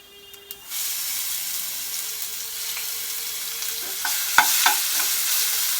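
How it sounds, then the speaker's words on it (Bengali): Black cumin and garlic paste hit hot oil for kochu bata, a sudden loud sizzle that holds steady and close, with a couple of sharp spoon knocks near the end. "এই যে তেলে দিয়ে দিলাম এবার আমি রসুন বাটাটা দেবো"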